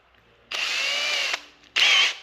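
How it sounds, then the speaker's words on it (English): A power drill bores a 1/8-inch pilot hole into the seat frame of a 1970 VW Bus, whining steadily for nearly a second, pausing briefly, then starting again close by with no talking. "So let me go grab a drill."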